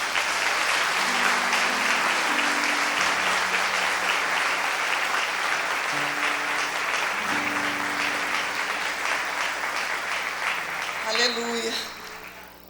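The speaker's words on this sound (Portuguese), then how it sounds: "Você pode aplaudir ao Senhor?" Audience at a church congress applauding the Lord: loud, sustained crowd clapping over a background of held keyboard chords, tapering off near the end.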